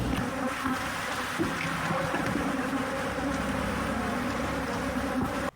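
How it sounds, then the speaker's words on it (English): Swarming honey bees loose from hives after a truck crash, a dense, steady buzzing drone of many insects up close that holds level throughout and cuts off abruptly at the end. "most of the bees that escaped their hives after a truck crash Friday morning have been now recovered"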